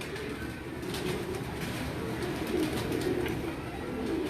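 Champion pigeons from a Gujranwala loft coo in a low, continuous rumble, the soft throaty calls overlapping steadily and fairly close throughout.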